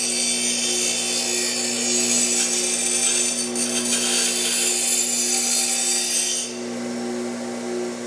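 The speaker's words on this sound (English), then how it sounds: "I have a grinder right here. And I'm just touching this at a steep angle, but lightly." A grinder lightly deburring the cut end of a 3/8-inch stainless steel fuel line on a 1967 Mustang, a loud, steady, high-pitched abrasive rasp with a constant motor hum underneath that drops off sharply near the end.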